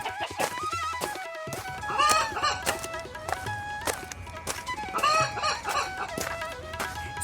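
An injured hen clucks repeatedly at close range, with bursts of rising, squawking calls breaking up an irregular run of clucks.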